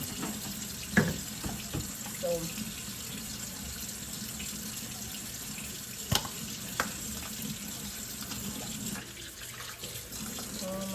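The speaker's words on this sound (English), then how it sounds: "I need to get some hot water too for the baby's bottles." A kitchen tap runs hot water for washing baby bottles, a steady, close hiss of flowing water with a few light clinks and knocks scattered through it.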